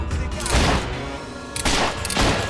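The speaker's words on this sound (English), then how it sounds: "He's a good shot with a" Bursts of gunfire, loud and close, two heavy volleys of rapid shots about a second apart with crackling, echoing tails.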